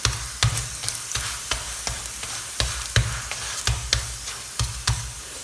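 A layered chapati cooking in an oiled pan sizzles steadily, broken by regular sharp taps and presses roughly every half second, close and clear.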